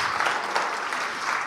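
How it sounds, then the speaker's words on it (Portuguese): A church congregation applauds Jesus during a Sunday celebration service, a dense, steady wash of clapping from many hands filling the room, with a faint voice mixed in. "Vamos aplaudir Jesus?"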